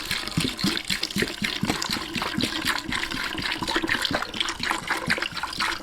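Evaporust rust remover liquid pours into a container over tools, a close, bubbling glug and splash that churns steadily throughout with no talking.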